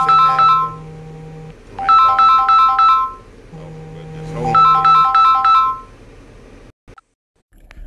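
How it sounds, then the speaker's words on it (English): A phone ringtone plays an incoming call as repeated bursts of bright melodic tones, three rings over a low steady hum, close and fairly loud, then stops abruptly into near silence. "I just received a phone call"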